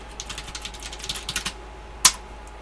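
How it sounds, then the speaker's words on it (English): Fast clicking keystrokes on a computer keyboard, close and fairly loud, rattle in a quick uneven burst, then pause before one sharp, heavy key strike. "I have to switch my keyboard layout because I had it on Russian"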